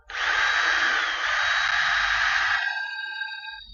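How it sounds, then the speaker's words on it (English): A power drill with a thin 3 mm bit whines steadily at close range as it bores into timber, the pitch dipping slightly under load before the motor winds down. "come in with the drill"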